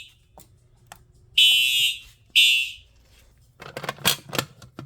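A fire alarm horn strobe on zone 2 blares during a system test in two loud, sustained blasts of about half a second and one second. Quieter clicks and rattling handling noises sit before and after them.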